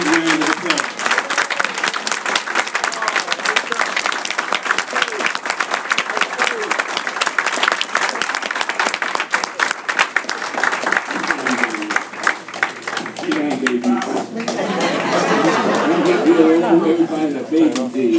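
Audience applause for a 93-year-old honoree, Dr. Ed Robinson, fills a large room with dense, sustained clapping for most of its length, tapering toward the end as a voice begins speaking over it.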